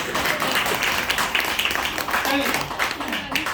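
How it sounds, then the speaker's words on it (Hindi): Crowd applause rings out steadily, with a voice audible partway through over the clapping. "एक बार जोरदार तालियां आप सभी के लिए।"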